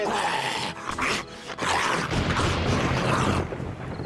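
A dog growls and snarls in the modded zombie survival game 7 Days to Die (Darkness Falls mod) during a horde night. The growls are dense and near, with brief dips, amid busy game noise.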